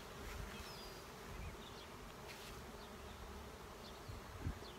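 A dense, steady buzz of a honeybee swarm around a tree, continuous and fairly close, with individual bees droning past now and then.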